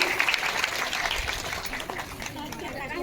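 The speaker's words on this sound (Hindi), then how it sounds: "तालियां बजाते हैं।" Audience clapping at a school function at Saraswati Shishu Mandir, Deori, steady and moderately distant, running under a faint voice throughout.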